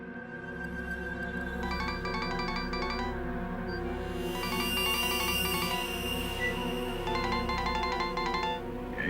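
A mobile phone left behind rings with a bright, repeating electronic ringtone in two bursts, set against a busy musical and noisy background in a courtroom drama scene.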